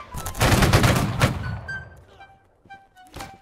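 A musket volley fired in Holdfast: Nations at War, one loud crashing group of shots that rolls out and fades into a quieter field with scattered distant sounds.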